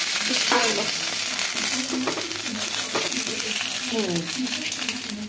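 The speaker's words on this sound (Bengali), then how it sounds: "এখন এটা আবার একটু কড়াইতে দিয়ে ভাজতে হবে" Hilsa fish sizzling in hot oil in a wok, a continuous frying hiss with faint stirring scrapes, while a voice talks briefly over it.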